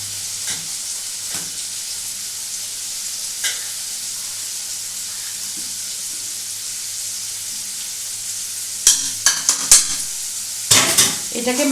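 Grated ginger being mixed into prepared rice in a pot for dhaba-style chicken pulao: a faint steady background hiss with scattered soft taps, then a cluster of sharp close scraping knocks near the end, no talking.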